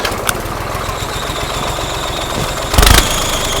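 A tractor engine churns steadily up close, rough and loud, then surges in a brief louder burst toward the end.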